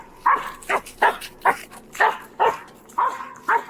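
Police dogs in a video game bark during a search through yards and woods, giving about eight sharp, evenly spaced barks at close range with no talk over them.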